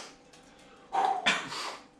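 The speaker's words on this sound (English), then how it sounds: "Our dog wants some of the action." A pet dog gives a couple of short, faint barks a little way off in a quiet room, with no talk during them.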